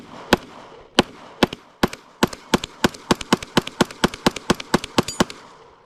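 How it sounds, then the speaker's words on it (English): A Smith & Wesson M&P pistol is fired rapidly, roughly sixteen sharp, loud shots coming in quick succession with slightly uneven spacing and no talking. "So we'll go through a mag dump, or we'll just do rapid fire"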